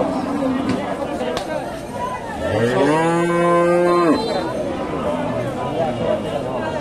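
A loud, drawn-out moo from a large Holstein Friesian cow rises and holds for over a second amid a busy crowd murmur and nearby voices talking at a cattle market in Bogura, Bangladesh.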